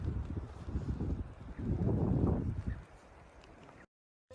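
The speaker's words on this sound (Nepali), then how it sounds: "कस्तो दामी हावा पनि चल्दैछ" Wind gusting at a high mountain viewpoint above Lachung in North Sikkim, a loud buffeting roar on the microphone that swells midway, eases, then cuts to silence near the end.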